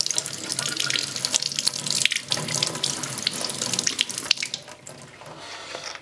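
A brush rinsed under a running tap, with steady close splashing and gurgling water into a sink, loud and continuous, easing slightly toward the end, with no one talking.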